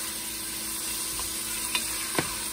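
Onions for chicken biryani sautéing in a heavy-bottomed Cuisinart pan, an even low sizzle with a couple of faint stirring clinks near the end.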